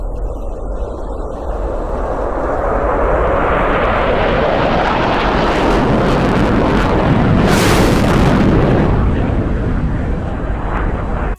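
A loud roaring rush swells and builds, peaking in a sharp blasting burst before fading, as a jet-powered land vehicle tears past beyond the speed of sound.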